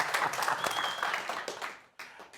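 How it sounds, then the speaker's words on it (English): Brief clapping in a television news studio as a guest is introduced on a talk show, a dense burst of hand claps that tapers off after a couple of seconds, with faint speech under it. "I was clapping over your intro"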